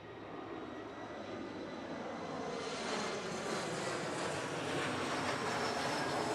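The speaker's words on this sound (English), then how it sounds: "Oh, a plane." A fixed-wing airplane passes overhead as a steady broadband engine roar that swells slightly midway and stays loud throughout, with no talking.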